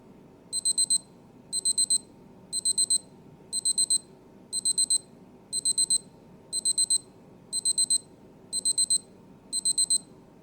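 A Seiko Prospex SNJ033 diver's watch alarm beeping in tight clusters of four quick high electronic chirps, repeating ten times at a steady rhythm, close and clear over faint background hum.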